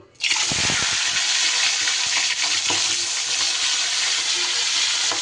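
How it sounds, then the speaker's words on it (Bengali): Fish heads frying in hot oil over medium-low heat, a loud, dense sizzle that bursts in right at the start and holds steady throughout, with a few soft clinks and stirring knocks near the pan. "এবার আমি মাছের মাথাগুলো অতি সাবধানে ভেজে নেব"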